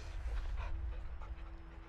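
A caged dog pants in the video game Modern Warfare II, quick quiet breaths with faint whimpers set against a low background rumble.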